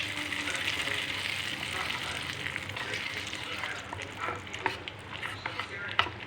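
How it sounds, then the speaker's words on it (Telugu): Tempering for chutney sizzles and crackles in hot oil, a steady close frying hiss with a few louder pops toward the end. "చట్నీలో పోపు అయితే అయిపోయింది."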